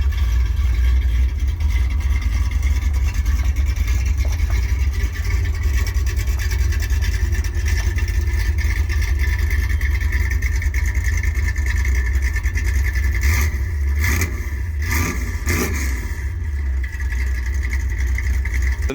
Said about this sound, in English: Truck warming up